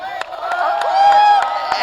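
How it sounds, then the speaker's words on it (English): Crowd applause after a women's flyweight MMA bout in Bangladesh, a steady patter of clapping with some cheering from the audience, a loud announcer's voice carrying over it throughout. "Please give it a huge round of applause."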